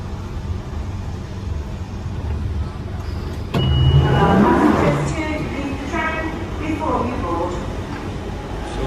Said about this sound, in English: So I got down from this Central Line train.